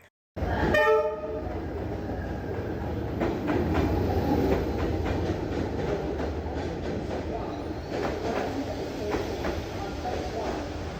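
A train horn blasts briefly at the start, followed by a continuous rumble of rolling rail cars with rhythmic clacking over the tracks in Vietnam, close and steady.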